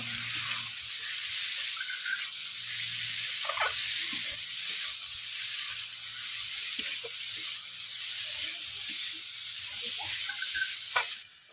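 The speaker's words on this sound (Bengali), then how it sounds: "সবজিগুলো দেওয়ার পর আমি এইভাবে 5 মিনিট সবজিগুলো কষে নেব।" Potatoes, okra and bhindi sautéing in a pan in a village kitchen, a steady sizzling hiss running throughout with faint stirring clicks and a low background hum.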